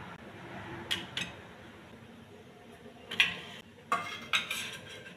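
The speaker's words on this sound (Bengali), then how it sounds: "তো আমি এই স্ট্যান্ডের উপর আমি বাটিগুলো বসিয়ে দেবো।" Metal bowls clink and clatter as they are set on a steaming stand inside a wok with water, a few sharp scattered knocks spaced over several seconds against a quiet kitchen background.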